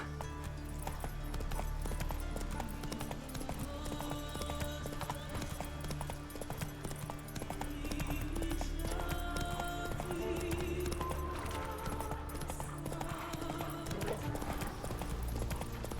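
Galloping horse hooves in The Witcher 3 video game, a steady rapid clip-clop running throughout under game music and ambience, with a faint voice briefly heard.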